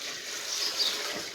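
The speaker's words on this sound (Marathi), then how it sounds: "पाणी." Water poured in a village home kitchen during a traditional Suhasini ritual meal, a short, soft, steady hissing pour heard faintly and alone.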